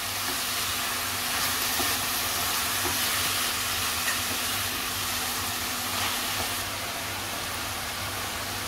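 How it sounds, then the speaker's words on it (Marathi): A steady, broadband sizzle of onions sautéing in oil with curry leaves for chole continues unbroken, close and moderately loud, with no talking. "चांगला कांदा परतून घ्यायचा आपल्याला"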